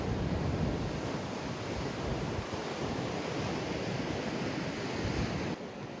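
Rough ocean surf pounds the shore in a continuous, loud roar of breaking waves, with gusting wind buffeting the microphone and no voices.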